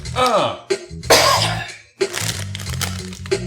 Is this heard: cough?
yes